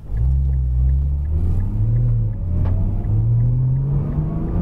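Nissan GT-R accelerating hard on a race track, a loud, steady engine roar with low rumble and slowly rising pitch as the throttle is held open, running continuously without talk.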